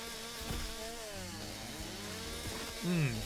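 A chainsaw cutting down zombies in the game Zombieville USA 3D gives a steady buzzing drone with wavering engine pitch, fairly quiet and continuous, swelling briefly near the end.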